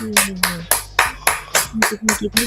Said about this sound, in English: Simon is hilarious with all that clapping